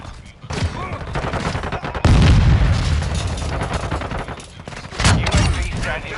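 Heavy gunfire and booming explosions from a Call of Duty Modern Warfare 2 multiplayer match, dense bursts with loud blasts near two and five seconds, under a radio-style voice calling out.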